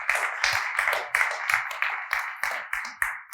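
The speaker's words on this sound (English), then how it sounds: "Please give him a round of applause, guys." A conference audience applauds a speaker being introduced, producing a steady run of sharp, overlapping hand claps at moderate volume for a few seconds.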